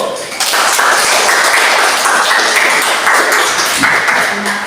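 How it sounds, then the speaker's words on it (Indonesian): Classroom applause from a group of pupils clapping their hands, a steady dense patter of claps that fills the whole moment, fairly loud and close, with some faint voices mixed in. "Tepuk tangan dulu."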